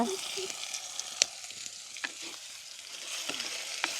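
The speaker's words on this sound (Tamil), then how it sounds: "வெங்காயம் பச்சை மிளகாய் எங்களுக்கு நல்லா வதங்கட்டுக்கும்" Onions and green chillies sauté in a pan for a village-style country chicken dish. A soft, steady sizzle runs throughout, with scattered clinks from stirring, close by but fairly quiet.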